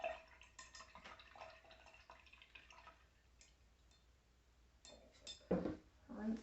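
Paintbrush rinsed in a water cup while painting: faint swishing and small clinks against the container, a few brighter taps near the end, quiet and close.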